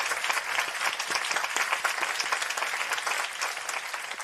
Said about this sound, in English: Please join me in a round of applause for our honorary initiates.